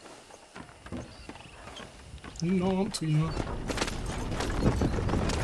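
Horse hooves clip-clop in Red Dead Redemption, a steady plodding gait under a voice and other game sounds, close and moderately loud.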